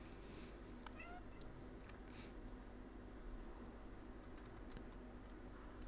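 In the video game Stray, a cat gives a couple of short, faint meows over a quiet, steady background hum, with a few light clicks scattered through.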